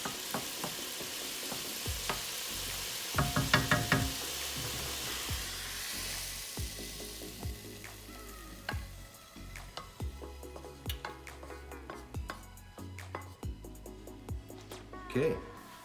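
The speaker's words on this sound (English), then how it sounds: "Let's transfer this to a serving bowl" Keto stir fry being scraped and spooned out of a hot pan into a serving bowl: steady low sizzle with scattered close clinks and scrapes of a utensil against the pan, a few louder knocks near the end.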